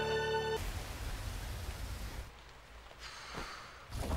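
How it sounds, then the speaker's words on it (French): Steady rain falling on a rainy day, a continuous broadband hiss that holds for the whole stretch with no voices over it. "pleut depuis ce matin."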